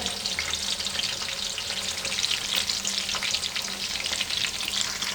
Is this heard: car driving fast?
no